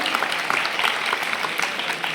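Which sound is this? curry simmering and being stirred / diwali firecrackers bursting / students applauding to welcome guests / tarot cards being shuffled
students applauding to welcome guests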